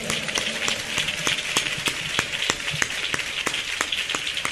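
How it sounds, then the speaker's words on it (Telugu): A church congregation clapping loudly during a Telugu New Year sermon, steady rhythmic claps in unison at a brisk even pace under a noisy hall wash, with no talking. "విశ్వాసంతో చప్పట్లు కొట్టండి గట్టిగా"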